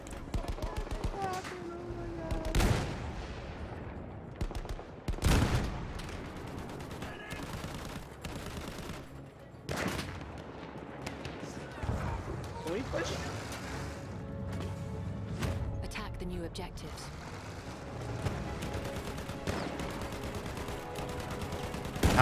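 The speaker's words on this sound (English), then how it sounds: "Wait for the enemy artillery barrage to stop firing." Battlefield 1 enemy artillery barrage: heavy booms and crashing impacts land every few seconds amid scattered gunfire and battlefield clamor, mostly at moderate distance, with voices talking at times.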